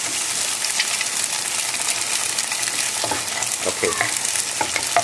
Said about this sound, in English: I'll just stir them a bit. Make sure they're not runny before I add in my noodles.